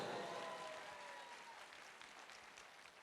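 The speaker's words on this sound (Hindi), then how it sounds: "जोरदार तालियां बनता है दोस्तों।" Broad applause from a crowd at a wellness company speech event, a dense wash of clapping that starts full and slowly fades over three seconds, heard at a distance.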